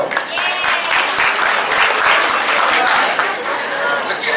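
A seated public crowd at a long all-day event bursts into loud, sustained applause, a dense wall of clapping close by, with voices faintly mixed in.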